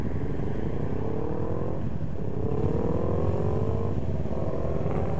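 A motorcycle riding on busy city streets, its engine a steady close drone with rising and falling revs as it moves through traffic, with no talk over it.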